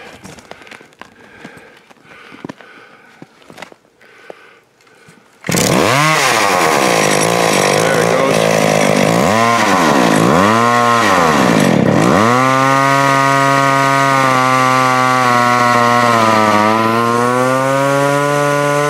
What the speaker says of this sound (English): Here's the McCulloch Super Pro 81 and the Lewis winch in action here.